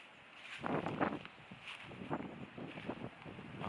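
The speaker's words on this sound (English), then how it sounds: "it's quite windy" Gusty wind rumbles and buffets the microphone in uneven bursts outside St Mary the Virgin church in Wetherden, Suffolk, a rough outdoor whoosh with no voices.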